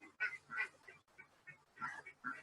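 Ducks quacking outdoors in a series of short, nasal calls in bursts with brief pauses, moderately close and fairly quiet, with no talking over them.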